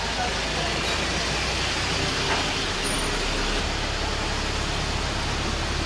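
A Bongo 4WD dump truck being driven in, its engine a broad, rough rumble mixed with hissing noise, steady and fairly loud for the whole stretch, with voices faintly mixed in.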